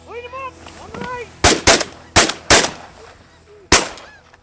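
Several loud shotgun blasts ring out in quick bursts during a snow goose hunt in Canada, following honking geese calling overhead, with voices talking between shots.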